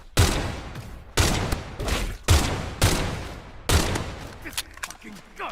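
Heavy gunfire in a swamp-set survival shooter game, Pioner: five loud, close bursts of automatic fire roughly a second apart, each decaying into rumbling echo, with scattered quieter shots trailing off at the end.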